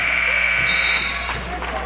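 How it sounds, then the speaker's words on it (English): A basketball buzzer sounds at the end of a period in a girls' high school game, one loud sustained electronic tone that cuts off, with an announcer talking over it. "At the buzzer,"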